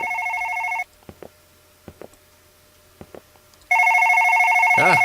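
A telephone ringing in the video game One Late Night: a loud electronic ring tone sounds, cuts off into near silence with a few soft clicks, then resumes just as loudly, with brief speech near the end.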